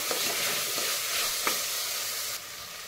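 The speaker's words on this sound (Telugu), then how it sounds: "ఇంగువ చిటికెడు, కొద్దిగా వేగనిస్తాను." A pinch of asafoetida fries in hot oil with salt, a steady, loud sizzle that runs on unbroken, with a couple of faint stirring clicks.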